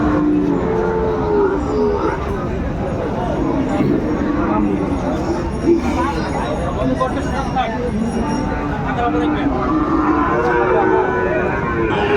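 At a crowded Chattogram cattle market, a bull's deep lows rise at the start and again near the end, partly buried under constant nearby chatter and market noise.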